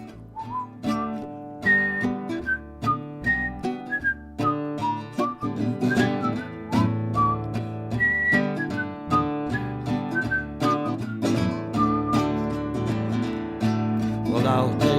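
Someone whistles a lively melody over a backing of instrumental music, the notes bright and clear in a bouncing rhythm.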